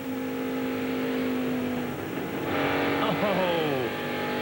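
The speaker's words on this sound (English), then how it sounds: "Big group of cars coming down the backstretch" A big pack of stock cars roars down the backstretch of a NASCAR Busch Series race, a loud sustained engine drone that swells as cars pass, with pitch sweeping downward and commentary over it.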